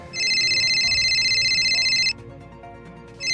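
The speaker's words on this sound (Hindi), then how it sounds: "यह फोन भी ना कभी भी बज जाता है" A telephone ringtone sounds close and loud, a bright electronic trill lasting about two seconds, a brief gap, then the ring starting again.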